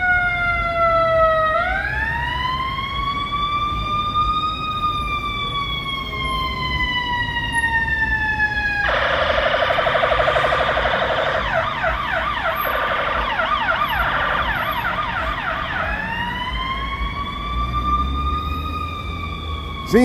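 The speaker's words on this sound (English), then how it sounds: "We'll watch this ambulance go by." An ambulance on a Chicago downtown street corner at twilight sounds a loud wailing siren that sweeps up and down. Partway through it switches to a rapid yelp and then returns to the wail as it passes close by over steady city traffic hum.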